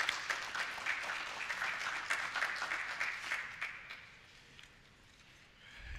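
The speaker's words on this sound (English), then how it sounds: "To you, applause." Audience applause at a Pi Eta Kappa induction ceremony, steady clapping from a room full of people that holds for several seconds, then thins and fades before a brief rise at the end.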